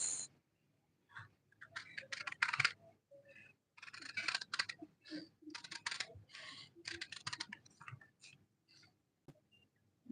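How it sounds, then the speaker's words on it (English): Scissors snip through paper in quick bursts of crisp cuts, close up, separated by short silent pauses. "Let me use my paper scissors."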